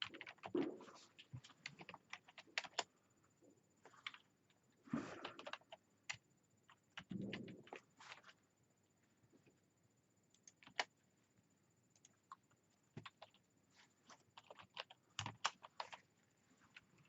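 Fingers type on a computer keyboard, producing quiet, irregular clusters of clicking keystrokes close by, with short pauses between bursts and no speech.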